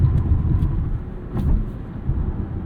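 A 2024 Alfa Romeo Tonale Ti PHEV rolls over railroad tracks, heard from inside as a steady low road rumble with a few faint, soft thumps from the crossing.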